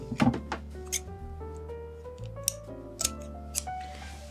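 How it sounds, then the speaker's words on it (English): Scissors snip away excess copper from a handmade copper cozy for an LED candle: several crisp, close snips spread across a few seconds, with faint music underneath. "so I'm going to snip off this excess."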